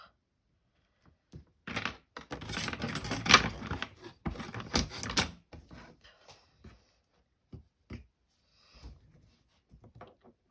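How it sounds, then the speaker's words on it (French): Paper cut with a craft knife on a work surface for a scrapbook page, a burst of dry scraping and knocking strokes near the mic, followed by sparse, quieter taps and handling noises. "je vais le couper au cutter"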